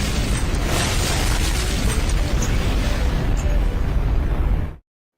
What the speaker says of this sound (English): Let's give him a little explosion here as a thank you.